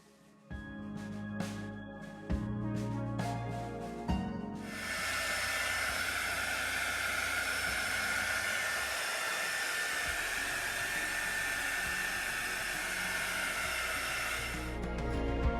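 A dryer blows a steady, loud hissing rush of air over fresh paint on a barn quilt board, running continuously for about ten seconds after a few clicks and handling noises.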